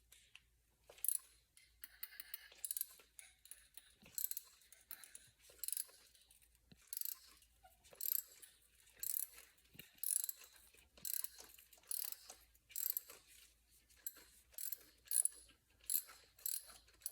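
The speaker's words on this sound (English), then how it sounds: "using our ratchet and our spark plug socket, we'll go ahead and remove the first old spark plug" Ratchet with a spark plug socket backing out an old spark plug on a 2013 Toyota Camry, rapid bright clicking in repeated regular bursts, close and fairly quiet, no talk.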